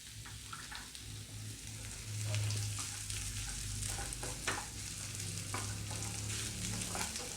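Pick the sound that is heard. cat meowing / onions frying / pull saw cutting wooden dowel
onions frying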